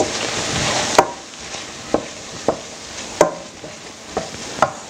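Onions sauté in a pan with fennel, red pepper and oregano sprinkled in. A soft sizzle runs underneath while a utensil scrapes and taps the pan about seven times at an uneven pace.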